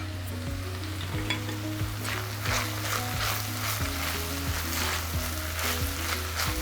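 Lima beans with grated coconut stir fry in a pan, giving a steady close sizzle broken by repeated scraping stirs, with no one speaking.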